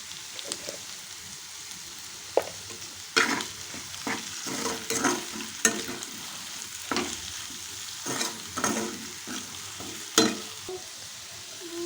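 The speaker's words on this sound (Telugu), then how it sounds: "ఇవన్నీ ఒకసారి మిక్స్ చేసేస్తాను" A potato fry is stirred and mixed in a pan with turmeric and spices. Irregular scraping and clattering strokes of a spoon sit over a low, quiet sizzle, close up, with no one speaking.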